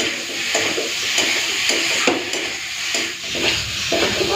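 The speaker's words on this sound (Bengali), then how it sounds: "এরপরে ভালো করে কষে নেব তেল বেশি দিলাম না অল্প তেলেই রান্নাটা করবো" Papaya and potato fry in a little oil with ground cumin and are stirred firmly, with rhythmic scraping strokes roughly every half second over a steady sizzle, close by and without talk.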